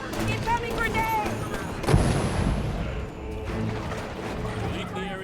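Grenade blast in Halo 5: Guardians, a single loud burst cutting through busy gunfire and battle noise, with voices heard around it.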